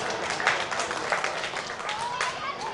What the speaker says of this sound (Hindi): उनके लिए भरपूर तालियां हो जाएं।